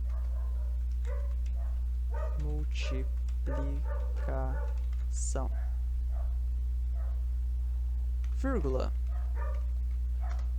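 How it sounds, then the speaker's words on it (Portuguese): Indoor dog giving a series of short barks and yips, some rising into a whiny tone, moderately near, heard under someone talking over a steady low electrical hum. "Desculpa pelo cachorro latindo"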